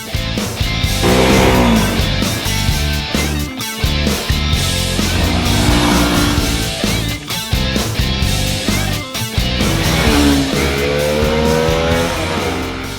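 A Bajaj Pulsar AS motorcycle ridden along winding roads, its engine loud and continuous as it repeatedly rises and falls through gear changes and throttle bursts, close and without speech.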